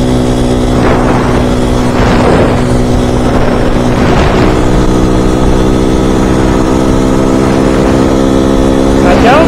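Fuego Tekken 250 motorcycle engine held high, near 7000 rpm, while riding on a highway: a loud, steady droning hum with wind buffeting and slight swells in pitch throughout.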